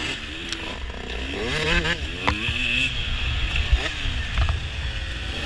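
Old Kawasaki dirt bike racing in a Portland Trail Riders hare scramble, with no clutch: engines rev and whine in rising, falling sweeps as bikes battle close together. A steady, loud mechanical drone runs underneath the whole time.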